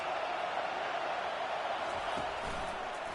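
Steady, distant stadium crowd roar from a college football video game fills the whole stretch as an even, hissing wash of noise with no distinct cheers.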